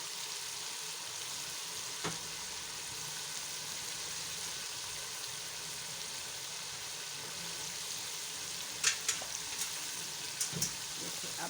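Masala with salt, red chili and turmeric frying in a pan, a steady moderate sizzling hiss throughout with a few sharp utensil clinks near the end.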